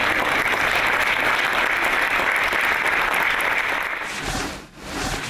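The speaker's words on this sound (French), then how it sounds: "on les applaudit chaleureusement" Warm applause from an audience, a dense steady wash of clapping that holds loud and even before thinning briefly near the end.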